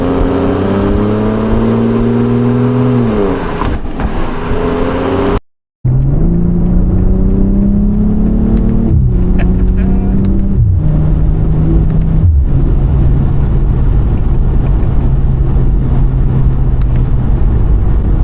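A BMW M340i with all-wheel drive accelerates hard in Sport Plus mode, its engine note climbing loudly through the gears with sharp shift breaks, then a brief silent cut before more sustained revving and upshifts.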